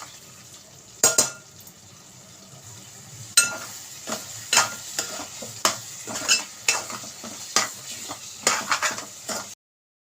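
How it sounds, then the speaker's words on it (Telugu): Metal utensils scrape and clink against a pot as chicken and brinjal curry is scooped into a bowl, in irregular bursts, with a soft background hiss between the strokes. "ఇప్పుడు దీన్ని వేరే గిన్నెలోకి తీసేసుకుందామండి"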